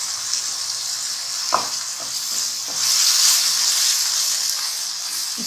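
Green peas frying in a masala of onion and keema in a pan, a loud continuous sizzle with a few stirring scrapes, close and steady throughout.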